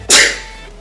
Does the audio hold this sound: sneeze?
yes